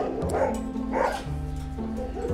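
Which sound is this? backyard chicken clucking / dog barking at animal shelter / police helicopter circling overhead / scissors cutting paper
dog barking at animal shelter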